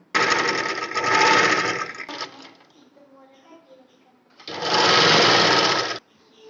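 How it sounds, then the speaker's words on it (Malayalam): Sewing machine stitching the folded lining of an umbrella-cut frock, two strong continuous runs separated by a quieter pause with faint handling, close and loud. "ഇനി ഇതിൻ്റെ ലൈനിങ് ഒരു 4 ഇഞ്ച് വീതിയിൽ മടക്കി തയ്ക്കാൻ പോവുകയാണ്"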